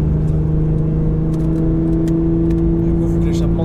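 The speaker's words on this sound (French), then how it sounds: "Ça, c'était le rolling launch." A Nissan GTR stage 3+ tuned to 700 hp pulls hard in a rolling launch, its engine holding a loud, steady, strained drone that stays close and constant throughout while people talk over it.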